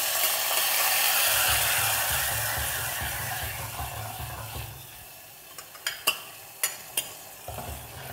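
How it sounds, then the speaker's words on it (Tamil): Mustard seeds and chilies sputtering in a pan before tomato puree goes in: a loud hissing sizzle with a low rumble that fades, then several sharp scraping clanks and stirs near the end. "கடுகு நல்லா பொரிஞ்சு மிளகாவும் பொரிஞ்சு வந்ததுக்கப்புறம் டொமேட்டோ பியூரி ஆட் பண்ணிக்கலாம்."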